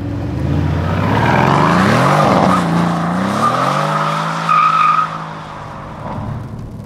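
A car does burnouts with its engine roaring and revving and its tires squealing and skidding loudly close by, the pitch sweeping up and down before settling into a steadier drone.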